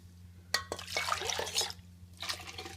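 Water is poured into ground wheat in a pot, splashing in irregular bursts over about two seconds, close and fairly loud, with a steady low hum beneath.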